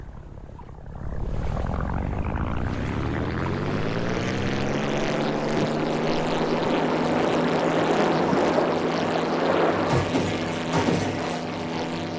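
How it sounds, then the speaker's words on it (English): In a flight video game, a propeller airplane engine cranks and starts, its drone rising in pitch and settling into a loud, steady buzzing hum that runs throughout without any talking. "Let's start up the plane."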